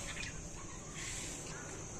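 Oriental magpie-robin and white-rumped shama call in front of a house in rural northwest Vietnam, faint chirps and whistles carried over a steady hiss of insects and outdoor ambience.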